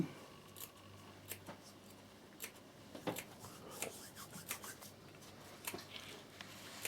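Scissors snipping fabric for a sewn peak cap, a series of faint, close, crisp clips spaced irregularly over quiet rustling.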